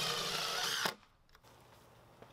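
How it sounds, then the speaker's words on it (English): A power drill drives screws through a doubled 2x4 shed header with a half-inch spacer sandwiched inside, making one loud, close whirring burst that stops abruptly. A faint click and quiet room tone follow. "I attached the pieces permanently by using screws on both sides."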